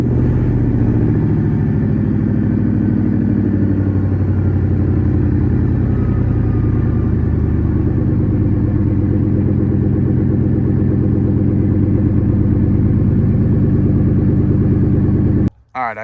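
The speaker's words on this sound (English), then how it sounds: "let's crank this thing up and give it a couple revs" A Ford F-150 with a 5.4 V8 and true dual exhaust gives a loud, deep, sustained exhaust rumble with pulsing engine tone, close and dominant, ending abruptly.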